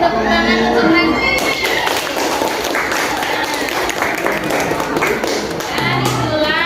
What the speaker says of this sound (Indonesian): Beri tepuk tangan untuk Lesti.